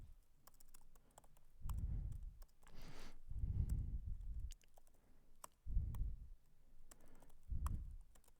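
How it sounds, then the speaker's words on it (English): Typing on a computer keyboard during a database migration talk, rapid clicking keystrokes in bursts with short pauses, close and fairly quiet, with no speech. "Talking and typing is too hard."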